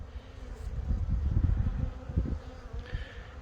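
Honeybees drone at an open hive during a February hive check, a close, steady low buzz that swells and flickers as the insects stir, with no voices.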